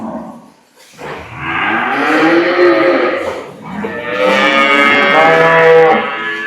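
A high-quality dairy cow of an improved breed moos loudly and close, one long drawn-out low call followed after a brief pause by a second sustained moo.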